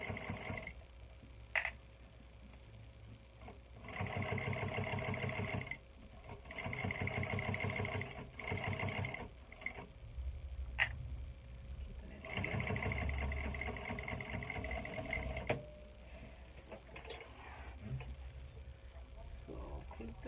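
Sewing machine stitching a modified beauty makeup bag, running in several bursts of rapid even rattling, each a few seconds long, separated by quiet pauses, close and fairly loud.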